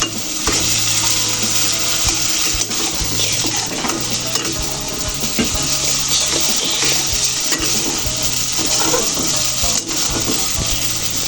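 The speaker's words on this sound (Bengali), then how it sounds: "আর একটু লাড়লেই নুডলসটা তৈরি হয়ে যাবে" Noodles frying in a hot pan are stirred continuously, a dense close sizzle broken by repeated scraping of a utensil against the metal, with no voices.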